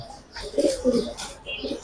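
Ringed pigeons give soft, low coos in a couple of short bursts, close by, with a voice talking over them.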